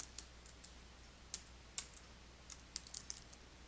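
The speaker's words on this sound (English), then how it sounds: "type the information into the first field and then press the Tab key on your keyboard" Keys tap on a computer keyboard while data is entered into form fields, a quiet, irregular run of crisp clicks with short pauses between keystrokes, no speech.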